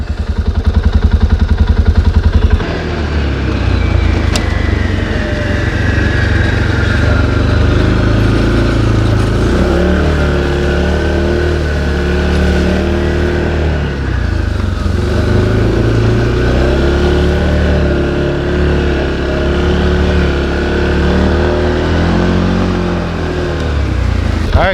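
An ATV engine idles and runs steadily after its annual maintenance, a loud, continuous low rumble with slight rises in revs throughout, heard close up without talk.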